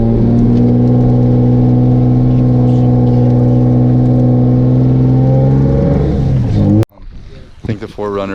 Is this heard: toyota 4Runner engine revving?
yes